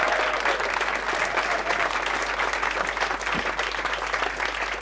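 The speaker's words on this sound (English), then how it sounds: "So they're clapping lots of noise." Dense, sustained applause from an audience welcoming a performer onto the stage, loud and continuous across several seconds over a faint low hum.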